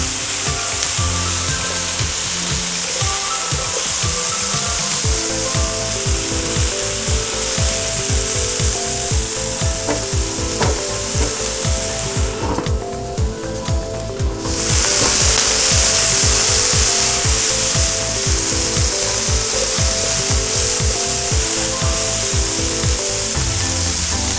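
Red potatoes and broccoli fry loudly in a hot pan while a utensil scrapes and stirs them in a steady rhythm, close up, under a constant sizzle with background music.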